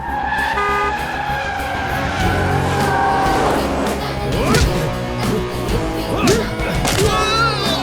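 A car speeds away in a police chase scene, with loud skidding tire squeal and a revving engine sweeping past over a dense, busy background, close and continuous throughout.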